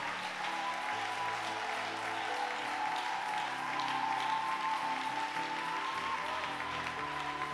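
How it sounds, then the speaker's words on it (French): A church congregation applauding and cheering, a dense steady wash of clapping and crowd noise that holds evenly throughout, with no clear speech. "Merci d'acclamer Jésus."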